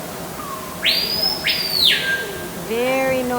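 Loud, drawn-out whistling parrot calls rise and hold, followed by a wavering squawk, with a humid background hum around them, in an indoor rainforest exhibit at an aquarium.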